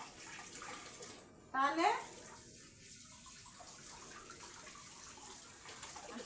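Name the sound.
running tap water while washing food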